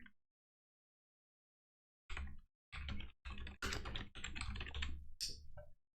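Computer keyboard keys are typed in quick bursts after a short silence, dense clicking runs close to the listener with brief pauses between groups, entering a label and no voices.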